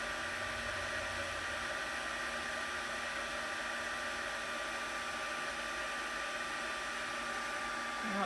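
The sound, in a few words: heat tool melting embossing powder on a card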